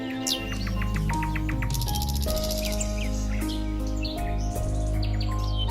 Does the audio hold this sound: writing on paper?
no